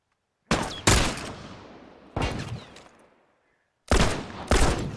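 Rifle shots ring out in The Last of Us, five sharp, loud reports in uneven pairs and singles, each trailing off in a long echoing decay with silence between.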